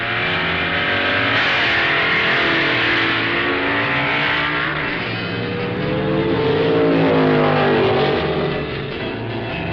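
Engines of 1969 Superstock drag race cars, including a Hemi Barracuda and a Mustang, racing at a drag strip: a loud continuous roar with revving pitch sweeps, distorted, old recording quality.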